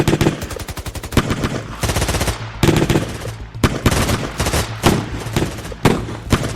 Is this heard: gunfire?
yes